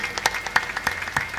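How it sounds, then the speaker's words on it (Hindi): An audience claps loudly in a short, rhythmic burst of distinct hand claps that ring out close and sharp. "ले बजा दो जोरदार ताली।"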